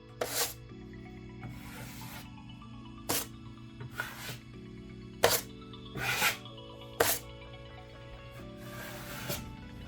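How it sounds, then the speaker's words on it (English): A 6-inch drywall knife presses wet joint compound flat over a wall patch and squeezes out the excess. Several short, soft scraping strokes come at irregular intervals over a faint steady background hum. "grab your 6-inch knife and press down the edges of the patch, squeezing out the excess mud so that it is flat against the wall"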